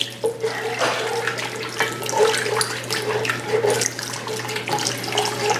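Seafood stock or shrimp broth pours steadily into a gumbo pot, a continuous close liquid splash and gurgle with no talk.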